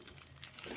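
Brief, quiet crinkling and tearing of a plastic snack packet being ripped open with the teeth up close.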